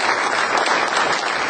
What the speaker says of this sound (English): Let's have a round of applause for these folks in the auditorium.